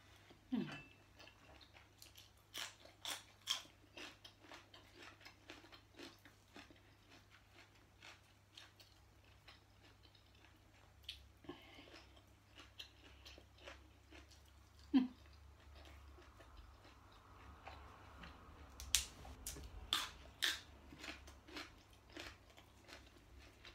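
Close, irregular bites and crunches of someone eating rice with a Thai fish dip, with soft clicks of utensils or dishes now and then and no talking.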